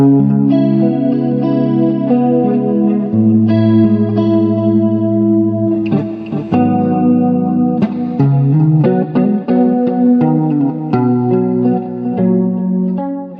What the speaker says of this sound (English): I've got the wireless plugged into this guitar, and I just want to play a little bit just to give you an idea of the sound